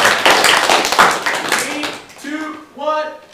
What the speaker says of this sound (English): a round of applause if you can hear